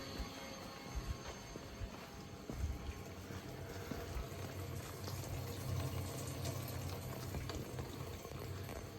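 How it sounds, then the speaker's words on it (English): An electric fuel pump runs in a garage while flushing fuel lines for a fuel-injected 383 stroker small-block Chevy, a steady faint whirring and liquid rush continuing throughout with occasional small knocks. "You can hear the fuel pump running."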